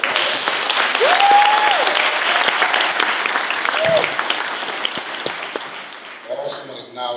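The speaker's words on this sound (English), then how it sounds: "give a round of applause to our mistress for the ceremony" Applause fills a hall at a green tie gala in Philadelphia, loud sustained clapping with cheers and whistles that fades toward the end as a voice begins speaking.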